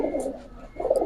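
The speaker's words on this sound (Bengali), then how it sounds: "এটা নাপ্তা কবুতরের বাচ্চা" A napta pigeon chick coos in low, soft throaty phrases, once at the start and again near the end, close by with no talking.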